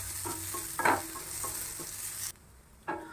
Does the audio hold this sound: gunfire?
no